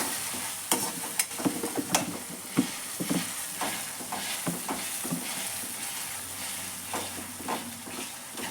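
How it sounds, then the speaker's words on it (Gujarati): Tomatoes sautéing in a pan give a steady sizzle and frying hiss, with repeated sharp clinks and scrapes of a spoon stirring throughout, close and with no talking. "એને પણ આપણે ટામેટા જોડે મસ્ત સાતળી કાઢશું. થોડી વાર સાતળવા દઈશું."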